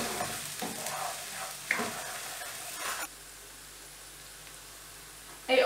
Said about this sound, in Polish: przystąpić do smażenia cebuli.